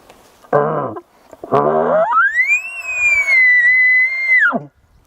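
Two short rough growling bursts lead into a high, rising whistle-like bugle note that holds and wavers before dropping off, imitating an elk's call on a diaphragm call.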